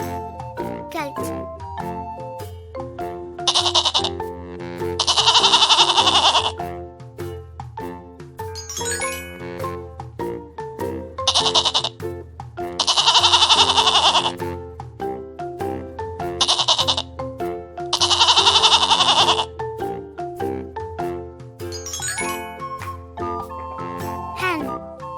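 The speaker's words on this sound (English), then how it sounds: "Goat," A goat bleats in a few loud, wavering bursts spaced through the stretch, each set against a continuous cheerful tune.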